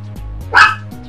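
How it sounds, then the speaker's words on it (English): A single sharp dog bark sounds close and loud, standing out above a low steady hum, with quiet gaps on either side. "Shut up, dog."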